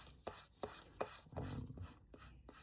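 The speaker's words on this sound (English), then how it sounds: "we'll give a little sandpaper on there" Sandpaper rubbing over a chrome-tanned leather wallet edge treated with gum tragacanth, a series of short, crisp scratchy strokes at an uneven rhythm, close and quiet with no talk.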